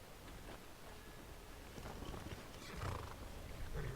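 In the Skyrim video game a horse clip-clops and whinnies, with faint, steady hoofbeats under soft ambient noise and a neigh toward the end.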